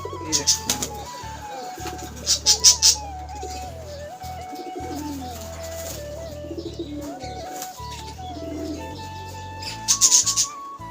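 High flyer pigeons arriving at their loft, with short bursts of flapping wings near the start, middle and end over a steady tonal background hum.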